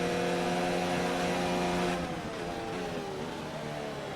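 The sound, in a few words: Formula 1 race cars from a racing video game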